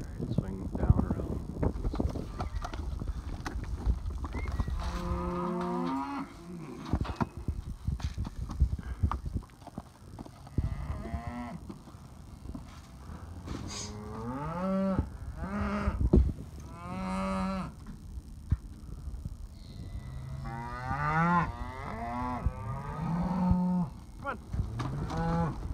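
Hereford cattle, including black and white ones, low out repeatedly while being chased toward a barn for loading, with hoof clatter and people calling and talking throughout.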